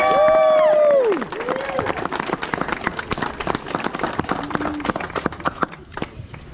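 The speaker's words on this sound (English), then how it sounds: "let's give him a big, warm round of applause" A crowd at a custom shop's grand opening breaks into a warm round of applause, dense and loud with some cheering, after a brief sustained tone at the start.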